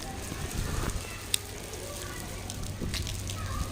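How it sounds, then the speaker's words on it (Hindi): Sudden heavy rain coming down outdoors, a patchy hiss and patter of thick drops with scattered sharp splashes, heard close and fairly quiet, with a brief sharp click partway through. "गाइस अचानक से आने लगी है बहुत तेज़ वाली बारिश"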